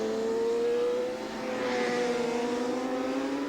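Supersport 600 racing motorcycles crossing the start-finish line at Cadwell Park in 1992, a loud, steady high-pitched engine whine that sustains and shifts slightly in pitch as the bikes pass close by, with no talk.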